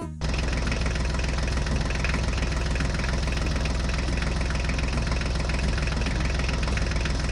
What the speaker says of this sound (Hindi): सब अपनी अपनी ट्रैक्टर गाड़ियां लेकर मिट्टी की लोडिंग करने जा रही हैं।